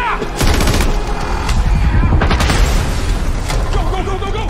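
Gunfire crackles in a movie trailer for the 2022 action film Ambulance: rapid bursts of shots in loud clusters, mixed with shouting voices and tense action sound.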